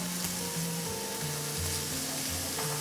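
Onions fry in a pan beside bacon for an Aussie burger, giving a dense, steady sizzle and hiss close by, with a faint turning scrape and a low background hum, no speech.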